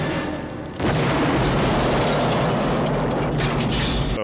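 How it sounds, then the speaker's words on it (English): A loud movie explosion from frag grenades in Lethal Weapon (1987) bursts in after a brief quieter moment, then rolls on as a dense, sustained roar with crackling debris. "I thought it was going to be a little bit bigger of an explosion"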